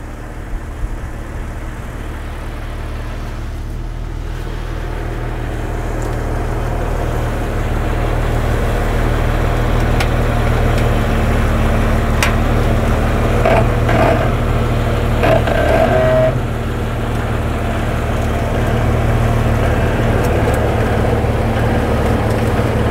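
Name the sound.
Jeep driving down the trailer ramp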